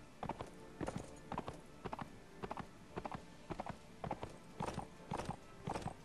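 Horse hooves galloping in the video game Mount & Blade, a run of rapid clip-clop beats arriving in quick clusters, fairly close and clear, with no talk over them.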